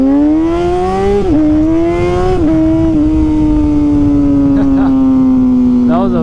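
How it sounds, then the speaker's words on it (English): A motorcycle engine revs hard during a wheelie, a loud, close, droning roar whose pitch climbs, dips at each gear change, then slowly falls away as it settles. Someone talks over the engine. "Do a little wheelie for my boy."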